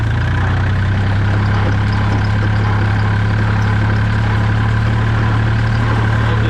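An ISEKI TA270 27 hp tractor engine runs in high gear with a loud, steady, low diesel drone and a constant rumble. The sound is close and uninterrupted, with no voices.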